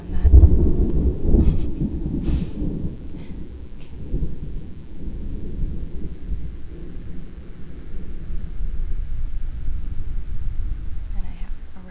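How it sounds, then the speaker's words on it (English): Thunder rolling through a rainstorm: a loud, deep rumble at the start that fades into a long low grumble under continuous rain hiss, with a few brief fainter sounds on top. "Love the timing of the thunder on that."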